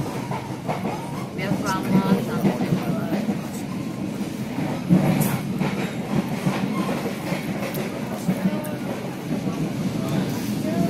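A passenger train pulls out of Senen station bound for Malang in East Java, its carriage rumbling with steady clickety-clack wheel beats and occasional squeals heard from inside a car, with voices murmuring throughout.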